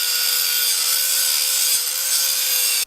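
Metal pieces being cut for a budget turbocharged LS engine build: a loud, continuous, close grinding-cutting hiss with a steady high whine, running evenly throughout and stopping abruptly at the end.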